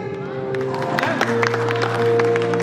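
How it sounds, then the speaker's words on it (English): Parents applauding at a school prize distribution ceremony, steady clapping from a gathered audience that carries on under an amplified announcement and music tones. "Parents, please keep on clapping for the child."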